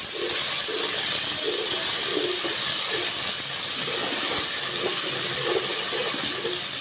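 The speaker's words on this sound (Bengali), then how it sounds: "আদা রসুনটা আগে একটু ভালো করে ভাজা নেব।" Ginger garlic paste fries with chopped onion in a pan, a loud steady sizzling hiss broken by rhythmic scraping stirs.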